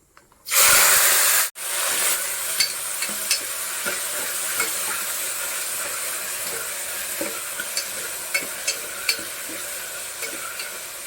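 Tomatoes, onions, green chillies, curry leaves and garlic hit hot oil in a cooker pot with a loud burst of sizzle, then settle into a steady frying hiss broken by occasional stirring scrapes and pops.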